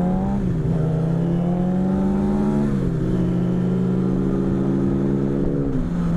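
A loud Nissan Frontier pickup truck engine drones close by, its pitch rising and dipping as it revs and shifts, with road noise underneath and no talking.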